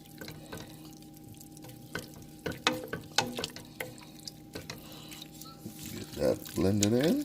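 Sharp cheese is stirred into a cheese sauce in a pan, with a spoon knocking and scraping the pan in an uneven rhythm, close and fairly quiet, with a voice speaking near the end.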